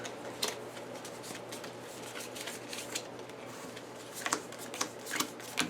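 Pathfinder Adventure Card Game playing cards being shuffled, soft riffling rustle with scattered sharper snaps toward the end, quiet and close.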